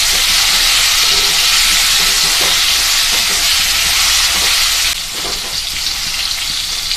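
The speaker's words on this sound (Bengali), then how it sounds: "এভাবে করে অল্প ভেজে নিব" Pointed gourd pieces fry in hot oil with a loud, continuous hissing sizzle and occasional crackles, easing slightly after a few seconds but staying steady throughout, with no voices.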